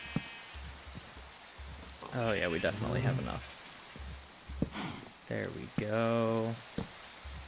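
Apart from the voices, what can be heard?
rain falling in Minecraft video game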